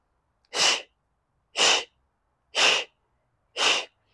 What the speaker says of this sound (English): So it's a big bellows breath.